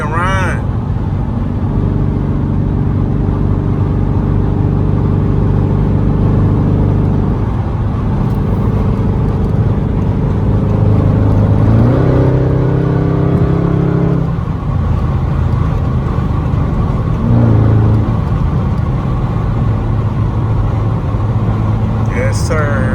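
A Dodge Charger SRT8 drives and revs, its engine droning steadily with rising and falling harmonics throughout, loud and close, while people talk over it.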